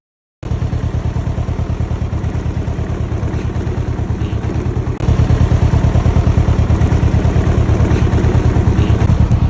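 A Can-Am Ryker three-wheeled motorcycle with loud aftermarket exhaust pipes idles with a loud, rapid exhaust pulse, stepping up slightly in pitch and volume midway as the throttle opens.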